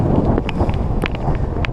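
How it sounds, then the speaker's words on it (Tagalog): Wind buffets the microphone while riding a bicycle to school, a steady, loud low rumble with gusty swells and no talking. "Ang hangin."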